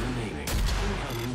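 Rocket launcher blast in the Doom open beta game, a single heavy boom with a short rumbling tail over a steady background of game sound.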